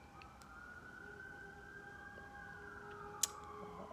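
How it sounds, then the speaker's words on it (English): Emergency vehicle sirens wail outside, faint and distant, their drawn-out rising and falling tones carrying over a quiet room background, with one sharp brief click near the end and no talking. "Well, sirens are gone."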